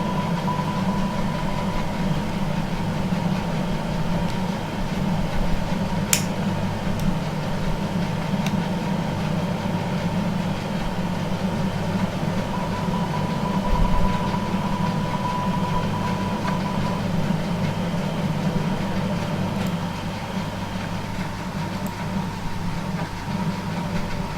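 Airliner engines in the FSX flight simulator hum steadily while taxiing, a continuous low drone with a faint higher tone above it and a brief thump midway.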